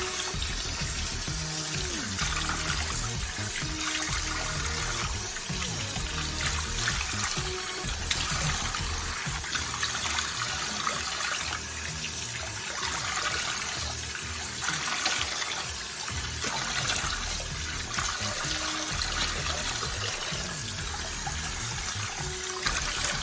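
Steady broadband rush of water running from a tap as a face is washed, continuous and fairly close for the whole stretch, with faint splashing texture and no talking.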